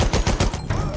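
Rapid bursts of gunfire from the World War I shooter Battlefield 1 on the Nivelle Nights map, a quick string of sharp shots in close succession that sound near and loud.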